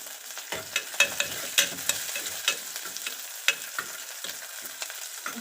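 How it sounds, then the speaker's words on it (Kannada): Three or four green chillies frying in a pan for a simple masala avarekalu saaru, with steady sizzling and repeated scraping stir strokes close up, no voices. "ಸ್ವಲ್ಪ ಫ್ರೈ ಆದಮೇಲೆ ಒಂದು ಮೂರು ಹಸಿಮೆಣಸಿನ್ಕಾಯಿ ಹಾಕ್ತಾ ಇದ್ದೀನಿ"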